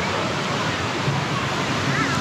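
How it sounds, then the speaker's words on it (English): A desert waterfall rushes in a steady, broad roar, continuous and fairly loud with no breaks. "Desert waterfall."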